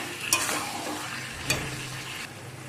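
Chicken stir-fried in oil in a pan, a close, moderate sizzle with two sharp clinks of a spatula against the pan and scraping stirs between them.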